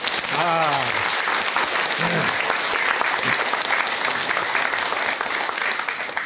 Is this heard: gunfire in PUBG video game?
no